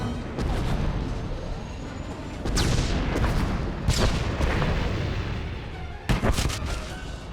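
Large explosions in the video game Star Wars: The Old Republic, with several sharp booming blasts over a steady rumbling background, loud and close.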